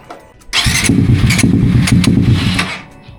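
A Suzuki GSX 150 motorcycle fitted with an aftermarket exhaust and a stock ECU starts with a burst and runs loudly and roughly for about two seconds, then sputters and stalls. Close-up, no talking.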